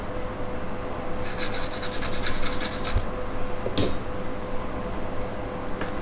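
A brush scrubs dirt off a B355E phone circuit board in a quick run of rhythmic strokes for about two seconds, followed by a couple of short, isolated scrapes, close and fairly soft with no talking.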